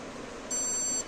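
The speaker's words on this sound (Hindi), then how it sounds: "ये बीप साउंड आ गया, तो ये हमारा सेटिंग क्या है, लोड हो गया" An Epson LX-310 dot matrix printer gives one steady electronic beep of about half a second after its settings load, clear and close over a faint background hiss.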